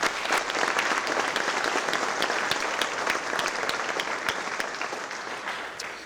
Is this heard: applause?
yes